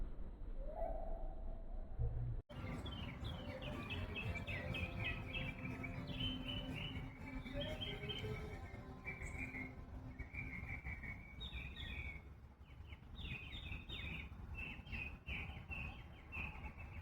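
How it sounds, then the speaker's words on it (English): Cardinal song, repeated clear whistled phrases sung over and over with short pauses, moderately loud over a constant low rumble of background noise. "The cardinal is a type of finch that can be found in gardens, streamside, and woodlands"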